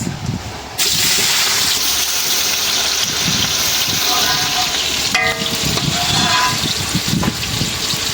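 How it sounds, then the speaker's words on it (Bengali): Onions and potatoes frying in a pan, a loud steady sizzle that swells as the potatoes go in, with stirring scrapes and no talk. "পেঁয়াজ আর আলু ভাজা হয়ে যায়।"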